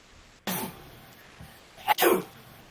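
A sharp sneeze bursts out after a brief quiet, followed by a second, louder sneeze close to the microphone.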